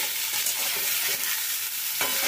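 Steady crackling sizzle of cauliflower pieces frying in hot oil over low-to-medium flame, close and continuous, with a brief stir or scrape near the end.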